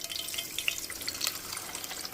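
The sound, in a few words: aroma oil poured through a spider strainer into container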